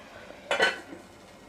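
A lid set on a cooking pot of chicken gravy makes a single brief metallic clink, close and fairly soft, alone against a quiet kitchen background.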